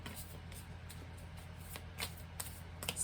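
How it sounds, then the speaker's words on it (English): Tarot cards being shuffled by hand in a series of soft, riffling bursts and light flicks, close and quiet over a low steady room hum. "Love that you can see me shuffling in this view"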